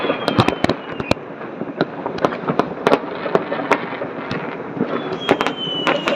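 New Year fireworks in Tashkent, Uzbekistan, heard from a balcony, crackle and pop in quick irregular bursts, with sharp bangs scattered over a constant rumbling hiss from many distant explosions.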